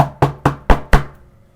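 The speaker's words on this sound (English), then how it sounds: "Here's what you hear. Your mom knocking at the door." Knocking at a bedroom door: five sharp, close raps in a quick, slightly uneven rhythm, each ringing briefly before fading to quiet.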